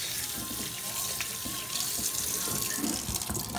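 Tap water runs steadily into a sink close by, splashing and shifting as chicken is rinsed under the stream.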